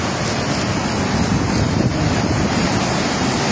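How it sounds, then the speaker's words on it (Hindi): Floodwater of the Ravi river at Head Sidhnai surges over and against a bridge, a loud, dense, unbroken roar of rushing water with no pauses and no voices. "पुल के ऊपर से भी पानी जा रहा है"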